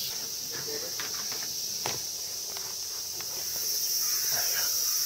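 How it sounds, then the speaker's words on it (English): Insects buzz in a loud, high, continuous shrill drone at a Japanese temple in August, with faint footsteps and scattered small sounds underneath. "In August, the bugs are going to get pretty loud."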